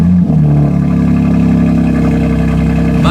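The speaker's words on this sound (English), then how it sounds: "let's get a cold start on the M3" A BMW M3 cold start in M mode: a loud, close engine roar with a strong low rumble that settles into a steady, high-revving idle, no voices over it.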